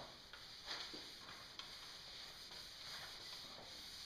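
Rag wiping base cleaner along a snowboard base, a soft, steady rubbing swish with faint repeated strokes and light clicks, close and quiet throughout with no talking.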